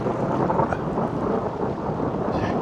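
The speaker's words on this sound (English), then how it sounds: "it's thundering and lightning" Thunder rumbling through a thunderstorm over farm fields, a continuous loud roar mixed with rain and wind filling the whole stretch with no talking.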